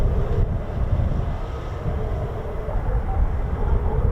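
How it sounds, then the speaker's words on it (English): An F-15 fighter jet engine starting up at an air force base, heard as a steady, loud, low rumbling roar from a distance with some wind noise. "if you're hearing startups, don't forget that the F-15s have had one engine shut down"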